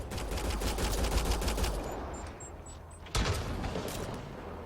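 Rapid gunfire rattles continuously in Mass Effect: Andromeda, loud bursts crowding the first half and then easing, with a fresh sharp shot near the end.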